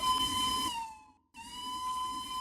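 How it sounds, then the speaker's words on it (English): A steam train whistle from a Roblox cargo train sounds as a steady, bright tone, fades into a short gap of silence, then sounds again for about a second. "All right, let's do the whistle."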